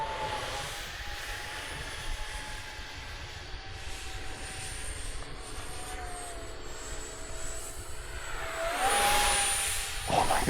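A model NGAD jet aircraft flies overhead, its thin turbine whine holding steady and drifting in pitch, then swelling louder near the end as it passes close, over soft outdoor background noise with no speech.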